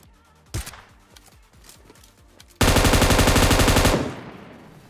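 Gunfire in the video game PUBG comes first as scattered single shots, then as a loud, sustained burst of automatic fire lasting over a second that fades out, with no talking.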